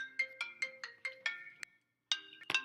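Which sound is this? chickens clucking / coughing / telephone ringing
telephone ringing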